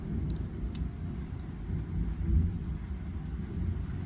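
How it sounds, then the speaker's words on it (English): Distant thunder rolls as a low, continuous rumble that swells briefly around the middle before settling, with no voices. "can you hear that thunder?"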